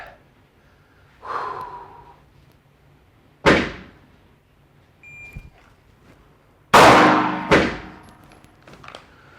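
Handgun shots fired at targets 15 yards away: a few loud, sharp cracks, one alone and then a close pair, separated by quiet gaps with faint breathing and handling noises between them.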